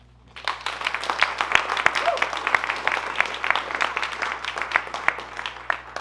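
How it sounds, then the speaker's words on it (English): Audience applause at a custom LLM hackathon talk session, a room full of steady, fairly loud clapping that starts quickly and keeps going without talk. "let's give a final huge round of applause for every single Gloria speaker that came up today"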